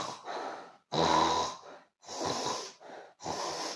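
A person imitates loud snoring with a series of rasping, snorting breaths, each lasting about half a second, separated by short pauses, close to the microphone.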